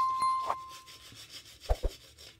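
A classic wet shave with a Rimei A2002 razor gives short, close scraping strokes across stubble in quick succession, after a brief metallic ding at the start.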